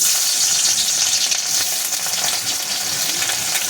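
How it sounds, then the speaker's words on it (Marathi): Coarsely crushed garlic dropped into hot oil for a tadka, giving a loud, close, continuous crackling sizzle that fades slightly toward the end. "डायरेक्ट लसणाचा याचा तडका देणार आहे"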